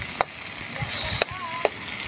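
Tilapia fries in a pan with a steady sizzle while a utensil stirs it, giving a few sharp scraping knocks and clatters up close.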